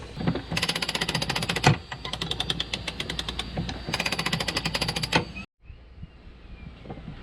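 Serviced Lewmar sailing winch spun by hand, a fast rattling ratchet clatter in three bursts with brief gaps, close and loud, then stopping abruptly.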